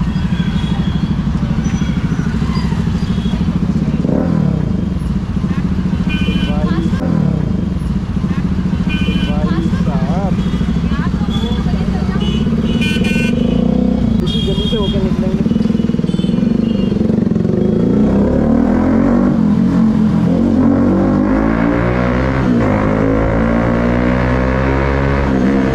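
A TVS Apache motorcycle rides through heavy city traffic, its loud engine droning steadily throughout with shifting revs, mixed with surrounding traffic noise while someone talks over it.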